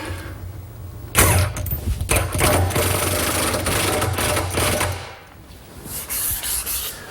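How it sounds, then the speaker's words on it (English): A power driver runs a bolt snug into hard wood through a pilot hole during a kitchen island build. It gives a loud, sustained grinding whir that drops away, then a softer burst of driving follows. "And then we'll just drive the bolt snug."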